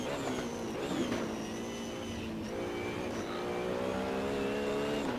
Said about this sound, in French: moi je suis en drift total, c'est très mauvais pour mes pneus